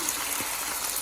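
Liquid for cabbage rolls pours into a pan in a short, continuous gushing splash, close and fairly loud.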